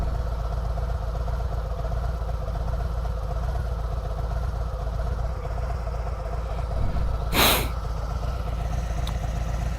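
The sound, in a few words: motorcycle engine running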